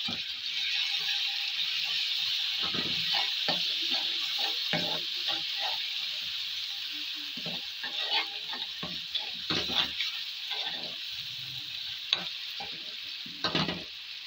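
Ginger-garlic paste and tomatoes fry in a pan for a spinach and potato curry, making a steady, close hiss of sizzling oil broken by repeated stirring scrapes and clatters.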